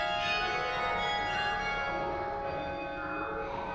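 Bells of the Swan Bell Tower in Perth ring with a bright, overlapping, sustained metallic shimmer, loud and continuous with no talking.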